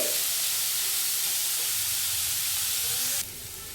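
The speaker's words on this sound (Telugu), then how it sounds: "ఇలా ఒకసారి దీన్ని వేయించుకోవాలి" Onion and carrot frying in hot oil for bun dosa, giving a steady loud sizzle and hiss that runs unbroken before dropping abruptly near the end.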